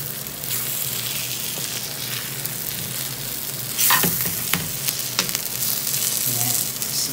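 Crispy tuna sisig made with canned tuna and egg sizzles steadily in a hot pan, with a continuous frying hiss broken by a few scraping stirs near the middle.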